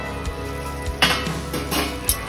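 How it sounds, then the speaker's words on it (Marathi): A lid lifted off a pot of vegetables that has been steam-cooking for 10 to 15 minutes, giving a few short metallic clinks and scrapes over a steady background hiss, close by with no talking. "आता आपण झाकण काढणार आहोत"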